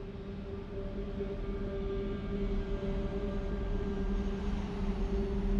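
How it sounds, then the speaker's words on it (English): An airplane rolls along the runway after an emergency landing, its engines giving a steady, loud, continuous drone with a constant hum and broadband roar and no voices. "The plane has made it back on solid ground"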